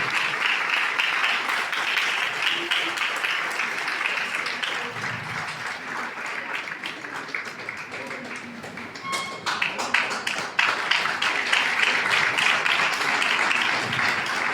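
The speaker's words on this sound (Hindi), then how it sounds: "जोरदार ताली होनी चाहिए, जोरदार ताली होनी चाहिए।" An audience claps loudly and continuously at a stage event, a dense wash of applause that dips slightly midway and swells again, with a voice briefly audible beneath it.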